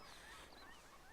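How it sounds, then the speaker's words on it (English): A brief honking bird call in the video game The Long Dark, goose-like and harsh, faint against a noisy background. "that bird really does sound like a startled wolf."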